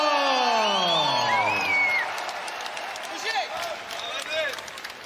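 Crowd at a boxing event in Uzbekistan applauds and cheers after a knockout win, a loud wash of clapping with whoops and shouts, opening under a sweeping tonal voice or horn that fades after two seconds.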